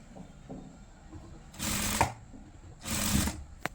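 Sewing machine stitching thread piping onto fabric at home, heard as two close bursts of motor whirring and needle clatter, each about a second long, with quieter handling noise in between.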